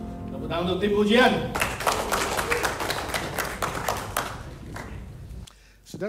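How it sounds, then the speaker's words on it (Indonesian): Congregation at a church service applauds the worship team, a dense burst of overlapping hand claps rising after a sung or spoken opening, then tapering off near the end while a voice carries underneath. "Tepuk tangan untuk tim pujian."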